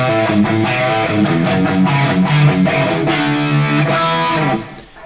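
Distorted electric guitar playing a palm-muted riff in steady downstrokes: a fast, chugging run of choppy, tight notes, loud and close, with no talking.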